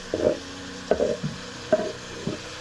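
Sponge gourd and tomato cooking in a pan with buff meat: four separate bursts of stirring and scraping against a low sizzle, close and fairly quiet, with no voices.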